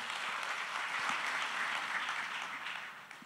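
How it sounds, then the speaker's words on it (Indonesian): Distant, steady crowd applause at an official inauguration ceremony for temple facilities in Besakih, a soft continuous wash of clapping heard alone without talk, fading slightly at the close. "tepuk tangan untuk beliau"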